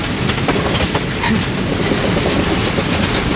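A historic train passes close by on the disused Police–Trzebież line, its wheels giving a steady loud clickety-clack and rumble that fills the whole stretch without pause.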